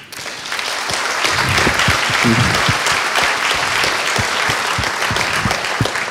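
An audience at a conference evening applauds the stage crew, sustained loud clapping rising quickly and continuing evenly to the end.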